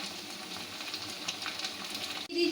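Ginger and garlic paste sizzle among frying onions with a soft, even hiss and faint crackling. The hiss runs steadily and quietly before breaking off into a brief clink near the end.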